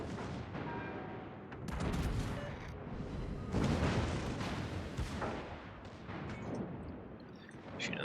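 Naval gunfire from ships firing at the destroyer Grozovoi in the World of Warships video game, with repeated heavy booming salvos rolling over a dense battle din, loud and continuous.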